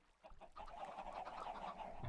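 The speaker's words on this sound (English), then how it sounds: "I want to watch you savaging these chickens." Chickens in the Minecraft video game clucking and squawking as they are attacked, a dense run of sharp fowl calls filling most of the stretch after a brief quiet start.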